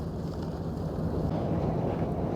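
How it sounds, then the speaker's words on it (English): The Sampo icebreaker ship pushes through sea ice in the Gulf of Bothnia off Finnish Lapland, giving a steady, loud low rumble mixed with wind buffeting that carries on without a break. "we are sailing out to the Gulf of Bothnia now, through the ice"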